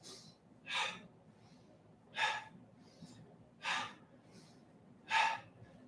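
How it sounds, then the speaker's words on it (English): Four quick, soft breaths drawn in through the nose and released through the mouth during a qigong exercise, evenly spaced, close and clear over a quiet background. "add the breath in through the nose, out the mouth"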